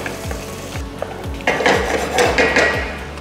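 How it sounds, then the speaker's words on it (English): Mushroom risotto with fresh thyme being stirred in a pan, a spoon scraping in a steady repeated rhythm over a constant close sizzle that grows louder and busier midway. "give it a good mix around"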